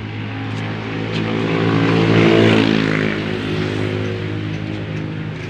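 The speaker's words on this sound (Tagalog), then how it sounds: "Nagbabakyum ako, linisan ko muna yung loob. Kasi ang daming buhangin." A vacuum cleaner running close by while sucking sand out of a car interior: a continuous loud motor whine and rushing airflow that swells in the middle and then eases back slightly, with no talking.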